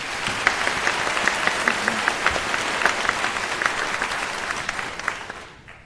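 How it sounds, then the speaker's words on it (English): Steady applause fills the room at a nursing college convocation, a dense wash of many hands clapping evenly for several seconds before tapering off at the end. "Could we give her a round of applause?"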